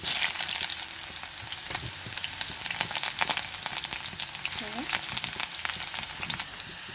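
Onions frying in a little hot oil in a pan, a continuous close hiss and crackle with dense popping throughout, no voices.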